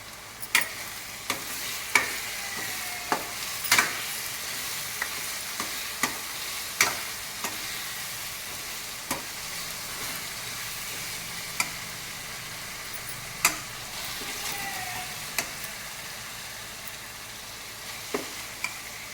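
Onion stirred and fried in a pan for a crab curry, a soft continuous sizzle punctuated by sharp, regular spatula taps and scrapes against the pan, close and without speech.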